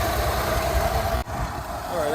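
A Rolls Royce Silver Shadow engine idles steadily after carburettor tuning, a close, continuous running note that dips briefly midway before carrying on. Speech sits faintly in the background.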